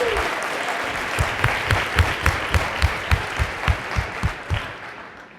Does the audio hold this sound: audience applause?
yes